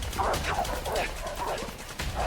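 Dogs bark and yip in a chase sequence from the video game A Way Out, a steady run of overlapping barks mixed with game noise and players talking.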